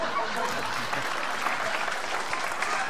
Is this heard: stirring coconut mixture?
no